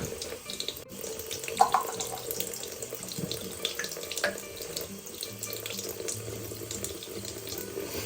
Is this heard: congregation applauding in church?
no